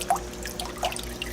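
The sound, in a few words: Jebao WP40 aquarium wave pump water flow on high mode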